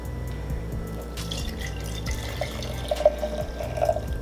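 Hot chocolate poured from a ladle into a cup gives a steady liquid trickle with small drips, close and fairly quiet over a low background hum.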